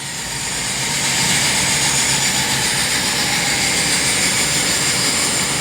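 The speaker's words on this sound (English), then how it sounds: "Sorry about the noise, they're doing a bit of rock sawing." A continuous, loud mechanical roar of a rock saw cutting rock drones steadily with a harsh high whine, no pauses, as if nearby on a worksite.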